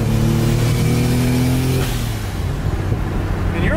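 A Nissan 350Z engine revs to around 4,000 RPM, a loud, steady mid-pitched drone that holds, then dips and settles into a rougher idle, heard close with no talk over it.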